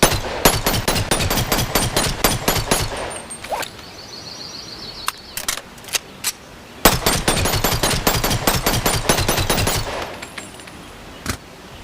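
Rapid pistol gunshots in a first-person video game, fired in fast bursts with a short lull midway, loud and close with sharp cracks and brief echoing tails.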